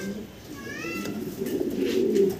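An exhibition pigeon with unique colouring coos softly at close range, with a short rolling call over a low murmur of background activity that grows slightly louder toward the end.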